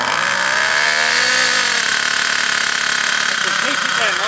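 Ansmann Virus 2.0 BigBlock nitro RC car engine held at a little throttle while being run in, a steady high-pitched buzzing drone close by that barely changes in pitch, with voices talking over it.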